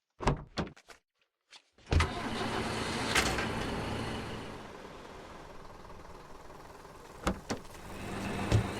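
A bus in a video game starting up after a few clicks and door clunks; the engine catches and settles into a steady idle hum with occasional knocks.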